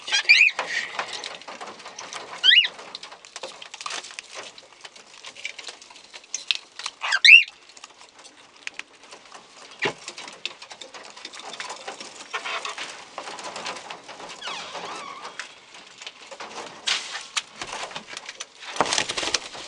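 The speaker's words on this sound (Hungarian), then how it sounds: "Ügyködjetek, madarak!" Pigeons flutter and flap their wings in a steady patter of rustling wingbeats, with occasional soft coos, close by and without talk.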